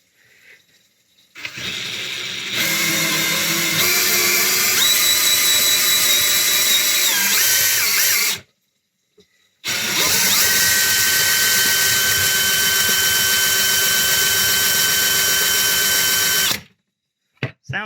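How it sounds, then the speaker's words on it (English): Cordless drill turning a clogged garbage disposal with water running, two long loud whining runs of several seconds each, the pitch shifting as the jammed unit loosens, separated by a brief silence, close up. "So what I'm going to try, since nothing else seems to be working, is my cordless drill."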